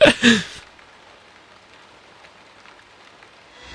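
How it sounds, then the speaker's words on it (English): Steady rain falling in the video game Rain Code, a soft continuous hiss that stays even throughout, with a couple of louder splashy bursts at the very start. "I forgot it rains all the time."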